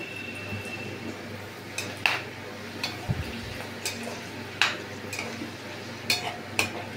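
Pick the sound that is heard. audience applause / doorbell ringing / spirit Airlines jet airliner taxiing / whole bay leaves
whole bay leaves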